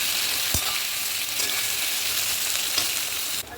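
Onions sizzle steadily in a hot pan with a little salt added, a dense continuous frying hiss close up, with a brief stir or clink near the start and a sudden drop at the very end.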